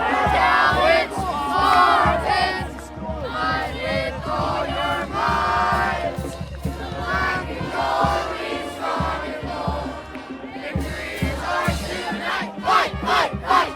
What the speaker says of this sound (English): That's the Emery fight song.